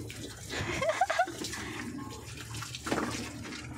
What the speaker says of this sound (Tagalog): Talagyan natin ng tubig kasi walang water.